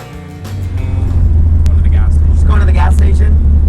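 A 1967 El Camino with a 50-year-old radiator running hot on a near-100-degree day drives along, its engine a steady loud rumble and road drone throughout, with talking over it.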